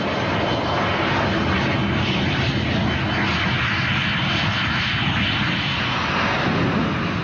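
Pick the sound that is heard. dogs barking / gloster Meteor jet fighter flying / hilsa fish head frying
gloster Meteor jet fighter flying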